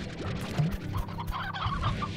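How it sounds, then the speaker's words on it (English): Chickens cluck in the ranching game Slime Rancher, a run of short, choppy clucks and squawks from several birds repeating close by, with no talking. "Do we have extra chickens?"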